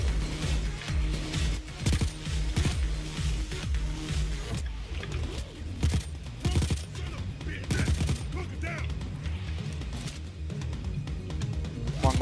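Rapid gunfire from a weapon in the video game Payday 2, on the Transport: Crossroads heist, rattles continuously in dense overlapping bursts with sharp impacts and game sounds throughout.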